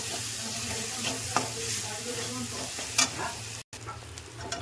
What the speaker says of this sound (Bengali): 1 টেবিল চামচ হলুদ গুঁড়ো, 1 টেবিল চামচ জিরে গুঁড়ো। এটাকেও আমি ভালো করে কষে নেব।